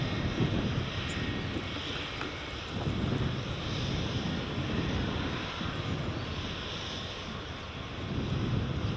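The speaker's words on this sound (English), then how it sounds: "The Ryanair is taxiing over onto the very far side." A Ryanair plane taxis at Edinburgh Airport, its jet engines producing a broad, steady roar heard from a distance outdoors, with wind buffeting the microphone and no talking.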